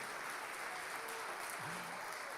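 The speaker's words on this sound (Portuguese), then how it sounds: "E se você crê, aplauda o nome de Jesus Cristo." A church congregation applauds during a sermon, the clapping faint and distant, blending into a steady wash of sound with a brief voice murmuring underneath.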